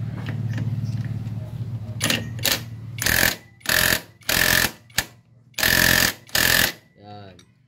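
Bursts from an impact wrench on a Honda Wave CX 110 motorcycle during clutch lining replacement, several loud rattling blasts of about half a second in an uneven rhythm, with mechanical workshop noise and brief talk between them.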